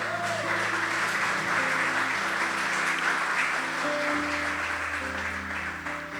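A church congregation claps in praise during a sermon, steady applause blended with sustained organ or keyboard chords, moderately quiet and continuous.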